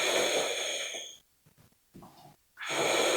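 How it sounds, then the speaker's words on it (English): Breathing during a power yoga core flow: a long, loud, close exhale, then a short quiet pause with small breathy sounds, followed by another strong rush of breath, and no talking. "Breathe in and out."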